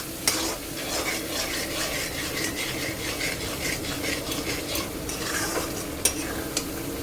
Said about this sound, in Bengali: এই দেখো, এবার এটাকে কন্টিনিউয়াসলি নাড়িয়ে যেতে হবে।